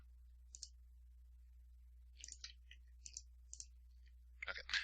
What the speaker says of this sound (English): If I click on this discount button